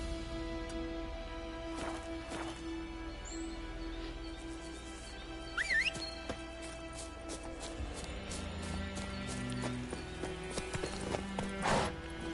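Horse hooves clip-clopping in a steady galloping rhythm in the video game The Witcher 3, moderate and continuous under game music, with a brief whinny-like cry midway.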